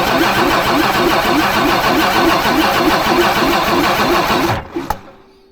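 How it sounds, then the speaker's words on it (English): An old, million-mile bus diesel engine cranks on the starter in a steady rhythmic churn, loud and close, then the cranking stops abruptly near the end, leaving a brief clunk and quiet. "Okay. It sees cranking."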